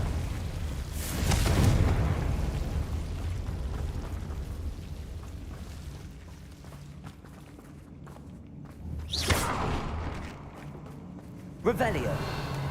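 Confringo spell in Hogwarts Legacy: a loud fiery blast bursts near the start and rumbles away, followed by a second, smaller explosion and a sharp crack later, with footsteps and movement between.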